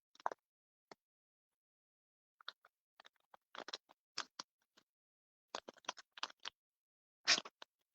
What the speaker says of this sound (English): Apparently my scissors need sharpening.